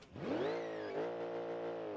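A toy car's small electric motor whines loud and close, rising in pitch as it speeds up, then holding a steady buzzing drone.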